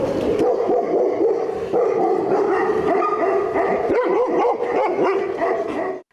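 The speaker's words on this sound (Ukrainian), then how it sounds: "вже кілька років знаходиться розплідник тибетських мастифів Юрія Бойка" Tibetan mastiffs barking at a kennel, many large dogs giving deep, overlapping barks and yelps in a continuous chorus, loud and close.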